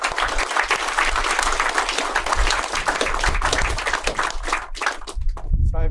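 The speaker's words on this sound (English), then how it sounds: "Round of applause." Audience at a Lutheran historical association gathering breaks into a sustained round of applause, dense clapping filling the room for several seconds before tapering off near the end.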